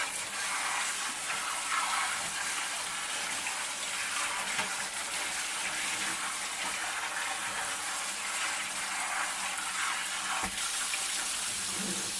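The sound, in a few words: tap water rinsing chopped vegetables in a sink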